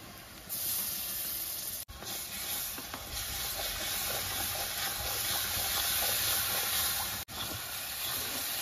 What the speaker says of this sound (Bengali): রসুনটা একটু ভাজা হয়ে গেছে